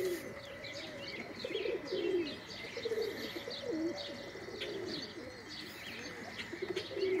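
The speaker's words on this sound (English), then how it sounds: "these are my young birds out here exploring" Young Budapest Highflyer pigeons exploring outdoors give soft, repeated low cooing calls with a few chirps, fairly quiet and continuous against a steady background hiss, with no talking.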